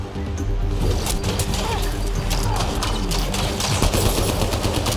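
Rapid, loud gunfire in Mass Effect Andromeda, repeated shots rattling in quick bursts over a dense combat mix of impacts and effects.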